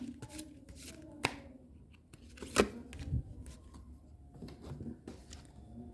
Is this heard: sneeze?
no